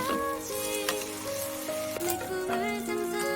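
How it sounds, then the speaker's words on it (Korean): Beef and wild chive (dallae) pancake frying in a pan, a steady soft sizzle running through the whole stretch beneath background music with clear melodic tones. "소고기만 익으면 먹을 수 있으므로 뒤집어가며 잘 익혀줍니다."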